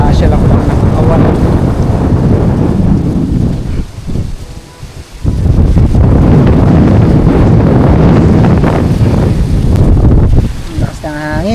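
Strong wind buffets the microphone in loud, roaring gusts that ease briefly before surging back, with a voice faintly audible near the end.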